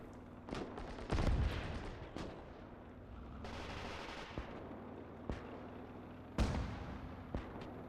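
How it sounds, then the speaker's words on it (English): Heavy gunfire and booming explosions from a Gates of Hell video game battle, with sharp bursts scattered across the clip and a rumbling stretch between, no talking. "Big explosions."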